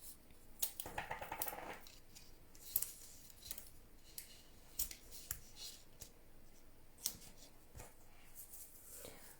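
Scissors cutting paper for a Stampin' Up gift box holding 16 Ferrero Rocher, faint crisp snips and rustles spaced out over quiet room tone.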